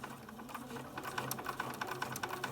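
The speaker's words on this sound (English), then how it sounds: "as you can see, I'm sewing from the wrong side" Sewing machine stitching a French binding onto soft fabric from the wrong side, a faint, steady mechanical whirr with quick rhythmic ticks, close by and without talk.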